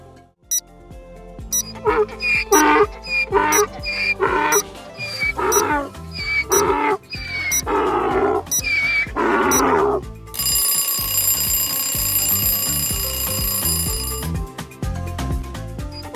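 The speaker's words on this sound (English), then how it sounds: "It's a donkey!" A donkey brays loudly in a series of rhythmic hee-haw cycles, followed by a ringing alarm-like tone, with background music underneath.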